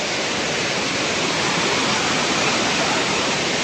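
Hogenakkal Falls in India roaring continuously, a dense, loud and unbroken rush of water with no voices over it.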